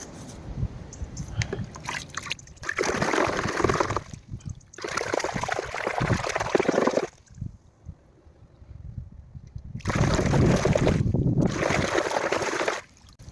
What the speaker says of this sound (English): This is plain water, there's no soap in it.